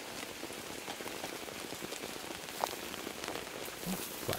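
Rain in the horror video game Infected, a soft, steady patter of drops on surfaces with a few faint thuds, quiet and continuous without speech.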